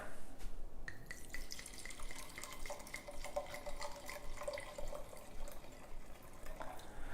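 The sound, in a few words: pouring a glass of wine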